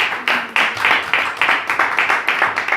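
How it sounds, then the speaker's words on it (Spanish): Church congregation claps together in a steady rhythmic beat, close and fairly loud, after a call to praise during a Spanish-language teaching service, with no talk over it. "Dar un fuerte aplauso al Señor."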